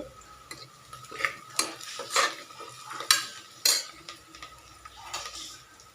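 Spoon stirring onions as they fry in a pan for chicken biryani, a series of scraping strokes and clinks against the metal pan over a soft continuous sizzle, close and moderately loud, no talking.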